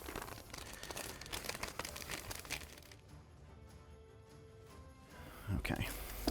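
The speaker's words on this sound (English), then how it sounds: "I have some scissors when I'm going to need to go through the cellophane" Crinkling and tearing of cellophane wrapping cut with scissors while unboxing a board game, close-up plastic crackle that pauses midway then resumes louder, with a voice talking over it.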